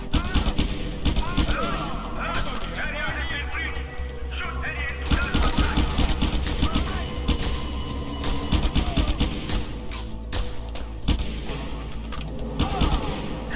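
Enemy pistol and gun fire in a shooter video game, with bursts of sharp shots and rapid volleys crackling through the scene, loud and close, mixed with game sounds and occasional voices.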